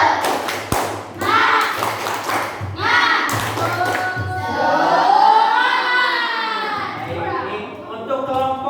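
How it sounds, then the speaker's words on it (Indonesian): Children in an Indonesian classroom perform a rhythmic spirit clap, sharp patterned claps and thumps alternating with an adult and young voices chanting along, loud and close. "Tepuk semangat"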